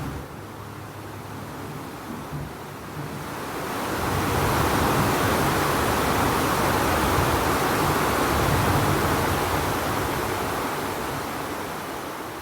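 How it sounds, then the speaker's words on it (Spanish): Pacific Ocean surf recorded at Bahía Solano on the Chocó coast, a steady roar of breaking waves that swells louder after a few seconds and holds as a dense, continuous wash with no voices. "o cuando voy al mar, grabo el sonido del mar."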